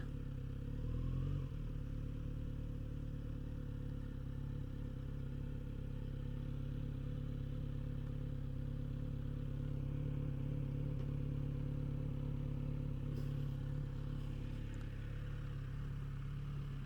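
A Kawasaki Z900 RS motorcycle engine idles steadily nearby, a low, even rumble with mechanical clatter throughout, and a slight throttle blip near the start.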